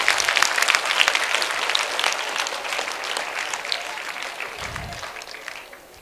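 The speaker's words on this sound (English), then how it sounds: "Clap for him." Classroom of students claps together in a lively burst of applause that starts loud and gradually thins and fades over several seconds, with a brief low thump near the end.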